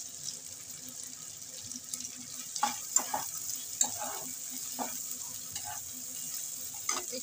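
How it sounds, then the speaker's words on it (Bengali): Chopped tomato stirred into frying onion, garlic and ginger for karahi chicken, a soft steady sizzle in the pan with occasional scraping and clinking from stirring, fairly faint and close. "আমি এবার টমেটো কুচিটা দিয়ে দিচ্ছি।"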